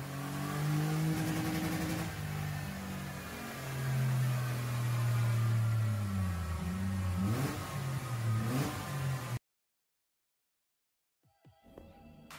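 A Mitsubishi Pajero engine revs hard on a dyno, rising and falling through several loud sweeps, then cuts off into silence before a few faint sounds at the end.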